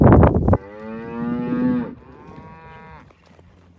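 A cow lets out a long, loud moo close by at a ranch water lot, followed by a second, softer and lower moo, after a brief rustle at the start.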